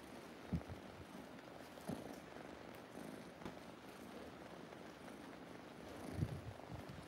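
Soft, steady low rumble of a cat purring close by, continuous for several seconds with faint background noise and a few small bumps.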